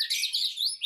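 A white-rumped shama (murai batu) gives a short, bright burst of high, rapid chirping notes, clear and close with nothing else around.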